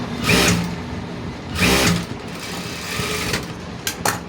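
A sewing machine runs in short bursts, stitching the cup piece of a blouse: two loud whirring runs of needle clatter, then lighter rattling and a couple of quick clicks, close by with no talking.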